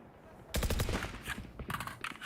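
Rapid rifle fire from a Vandal in a professional Valorant esports match, a dense burst of repeated shots loud and close, followed by a second flurry of shots with a caster's voice underneath.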